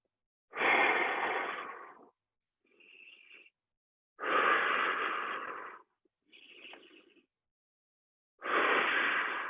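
Heavy, forceful exhales during an abs and core workout come in three long, loud, breathy blasts, separated by shorter, softer inhales, close to the microphone with silence in between.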